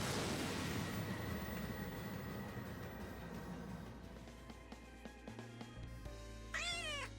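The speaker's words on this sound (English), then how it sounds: "I hear cats" Cats meow during a solo Warrior run through a video game dungeon. Rumbling game noise fades out, then a few distinct rising meows sound clearly near the end, with no talk.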